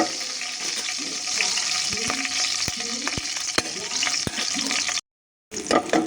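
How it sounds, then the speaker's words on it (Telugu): Cumin, crushed garlic and ginger fry in coconut oil for a Telugu carrot curry: a steady close sizzle with sharp stirring clicks, briefly cutting out near the end before resuming. "జీలకర్ర ఎల్లుల్లిపై అల్లం దంచి వేసేసుకుంటానండి ఇలా కొబ్బరి నూనెలో వేగిపోతుంటే"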